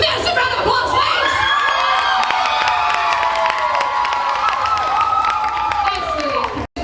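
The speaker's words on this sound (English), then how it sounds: "Massive round of applause, please!" A loud crowd at a cosplay competition cheers and shouts steadily, with high-pitched whoops from children and a little scattered clapping, ending with a brief abrupt cutoff.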